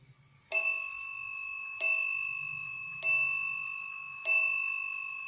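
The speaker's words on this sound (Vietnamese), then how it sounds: "Rồi mình test lần nữa ở vị trí 12 giờ này cho nó nhiều chuông." A brass German wall clock strikes twelve o'clock, each loud bright chime ringing out at an even pace about every second and a quarter and lingering between strokes, close and clear with no talk.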